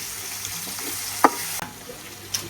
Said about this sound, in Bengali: পেঁয়াজের বেরেস্তা ভাজা হইতেছে।